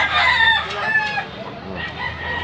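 A two-year-old gamecock rooster crows close by in Cebu, one loud rising crow that fades near the end.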